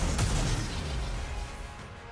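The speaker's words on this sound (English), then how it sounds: "A series of explosions rings out as grenades detonate in quick succession." A dull video game grenade boom opens, followed by a rumbling, crackling wash of grenade blasts in quick succession that slowly fades.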